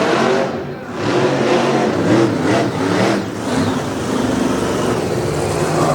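Monster truck Overkill Evolution at a freestyle event in Maryland, its engine roaring loud and rough with surging revs as it pulls a wheelie on a pod.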